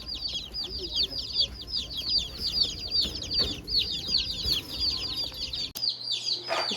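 Newly bought baby chicks peep nonstop, a dense flurry of high, rapid chirps close by, with faint low rustling underneath.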